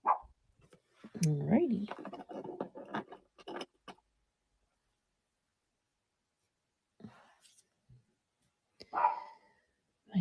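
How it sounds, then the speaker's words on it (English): A dog barks and yelps in a few short bursts near the start, mixed in with someone talking, then quieter scattered barks follow after a lull during a relaxed live jewelry showing. "My dog is going nuts."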